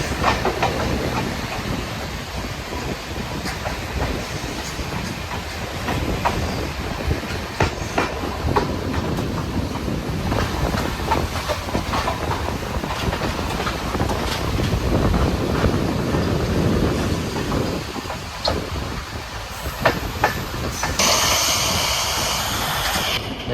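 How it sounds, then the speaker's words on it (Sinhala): The Colombo to Badulla night mail train in Sri Lanka's hill country runs steadily, its loud rolling rumble and rhythmic clickety-clack of wheels continuing for over twenty seconds with no voices. "කොළඹ ඉඳලා බදුල්ල කෝච්චිය යන නයිට් මේල් එක"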